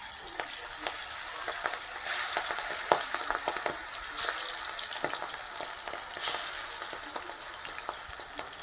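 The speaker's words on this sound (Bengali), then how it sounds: "তেল গরম হয়ে গেছে, এক একে ভেজে নেব।" Pui leaf fritters in gram batter sizzle and crackle in hot mustard oil in a kadai, a steady close frying hiss with occasional stirring clinks and bubbling pops.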